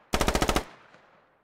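A single close burst of about nine rapid machine-gun shots in the tactical squad shooter game Squad, followed by a fading echoing tail, heard alone with no talk.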